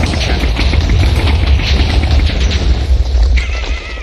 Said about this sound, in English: Rockets. Explosion.